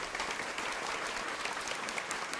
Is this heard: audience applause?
yes